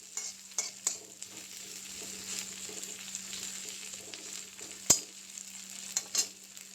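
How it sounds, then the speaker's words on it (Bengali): Onions and garlic fry in oil until reddish, giving a soft, continuous sizzle with occasional sharp clinks and scrapes of stirring, near and fairly quiet, with a faint steady hum underneath. "একটু লাল লাল করে পেঁয়াজ রসুনগুলো ভাজি করে নেব"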